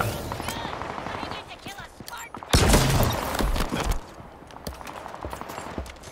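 Electric sniper rifle fired in Halo Infinite, a single sharp crackling discharge with a bright burst lasting over a second, set against busy game sounds and effects.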